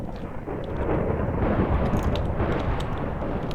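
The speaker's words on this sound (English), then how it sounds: "Yeah, that's a lot of lightning." Thunder from lightning strikes in the video game Forgecraft, a loud low rumbling roar that swells and rolls on, with faint crackles on top.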